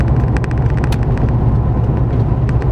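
Pro-touring wagon engine heard from inside the car during a downshift, a loud, steady low rumble with a quick ticking pattern and no voices.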